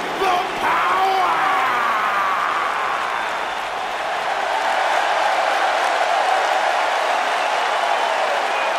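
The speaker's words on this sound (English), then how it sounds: "Clap for your longest reigning tag champs and feel the power!" Arena crowd noise at a WWE SmackDown Live wrestling event, a dense continuous wash of applause and cheering that holds steady and loud throughout, with a voice briefly audible early on.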